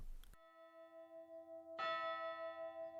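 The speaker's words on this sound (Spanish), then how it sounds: "A lo lejos las campanas se hacían más fuertes." Two church bell strikes ring out, each a clear tone with long humming overtones that hang and slowly fade, the second landing after a pause, quiet and distant with no talk.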